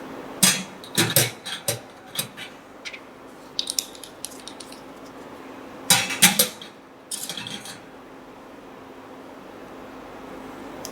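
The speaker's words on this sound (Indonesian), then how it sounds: "Tutup tabung dengan ibu jari lalu kocok perlahan atau pakai tutup dari tabung tersebut." A closed glass test tube shaken in a biochemistry lab, giving bursts of close clinking and rattling glass in irregular groups with quiet gaps between.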